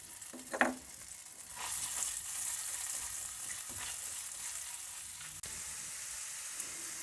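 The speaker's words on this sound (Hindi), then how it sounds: "लहसुन डालेंगे, हल्का सा फ्राई करेंगे।" Chopped garlic frying in melted butter in a pan, a steady soft sizzle with a few sharp clatters of a spoon or pan near the start and a knock later, no voices.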